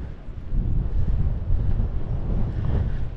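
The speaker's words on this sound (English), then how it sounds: "Windy up here." Strong wind buffets the microphone on high ground in Plymouth, England, a continuous low roar with gusty surges and no voices.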